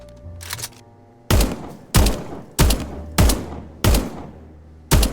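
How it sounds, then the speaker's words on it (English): A psionic damage gun fires in the Escape from Duckov game: a faint short burst first, then six loud, punchy shots spaced roughly half a second to a second apart, each ringing out with a decaying tail. "let me show you the psionic damage gun"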